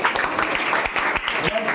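Students at a Class 10 girls' quiz competition clapping their hands, a quick run of sharp claps mixed with voices talking over them.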